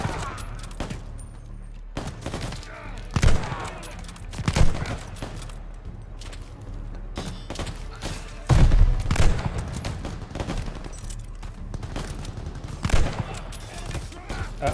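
Call of Duty Vanguard campaign gunfire rattles in scattered bursts and single shots with heavy booms, mixed under game dialogue and battlefield ambience.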